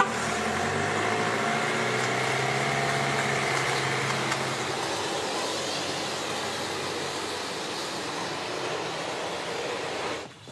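A car engine runs steadily at close range, a continuous loud rumble that holds even and then cuts off abruptly at the end.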